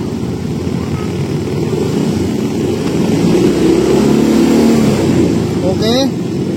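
A motorcycle engine revved with the throttle during a charging check on a bike with an overheating battery, a loud, steady, close drone that swells slightly midway and holds, with a voice speaking over it.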